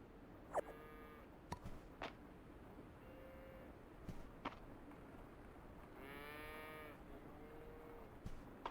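Cattle lowing in the farming game Fields of Mistria, several separate drawn-out moos spread across the stretch with quiet game clicks between them, moderately near and alone without talk.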